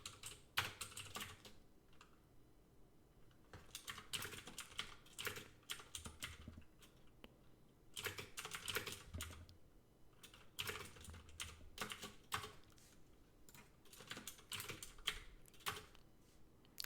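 Numbers are typed on a computer keyboard in quick bursts of close, crisp key clicks separated by short pauses, quiet and alone.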